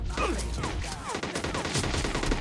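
Heavy gunfire aimed at the player in a mobile shooter game crackles as a fairly loud, continuous stream of rapid shots mixed with whistling and clattering effects, with no speech.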